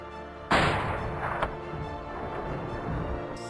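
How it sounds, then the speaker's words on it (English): A single small caliber rifle shot fired at a buffalo in Selous, Tanzania, one sharp close crack followed by a rolling echo that slowly fades. "I'm about to hit this thing with a small caliber rifle."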